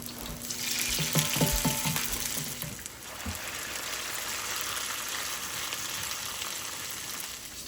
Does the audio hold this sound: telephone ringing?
no